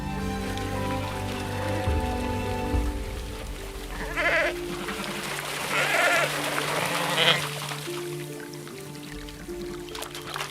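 Sheep bleating out in a vast open pasture, several drawn-out calls rising above a soft background with a faint tonal hum running underneath.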